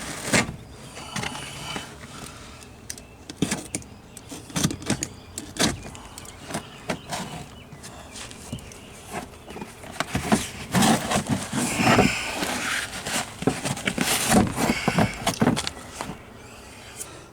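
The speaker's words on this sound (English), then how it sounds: "let's cut this nasty carpet out" Old carpet is cut and pulled out inside a Jeep XJ, with irregular ripping, tugging and scraping close by. Knocks and clunks come and go throughout, and no voice is heard.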